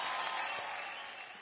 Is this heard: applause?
yes